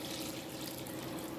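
Water pours steadily into rice for a jeeraga samba chicken biryani, three tumblers of water to two of rice, a continuous close splashing rush with no talk.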